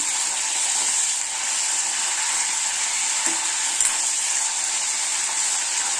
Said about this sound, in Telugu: ఇలా వంకాయలన్నీ వేసేసి కొంచెం ఫ్రై అవనిద్దాము.